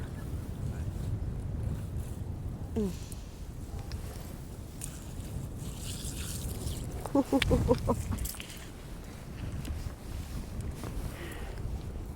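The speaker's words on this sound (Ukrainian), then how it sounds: "вітер страшенний" Strong wind roars steadily against the microphone on thawing ice while fishing, with gusty low rumbling throughout and a brief burst of clatter partway through.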